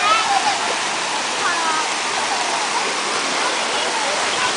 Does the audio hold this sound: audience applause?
no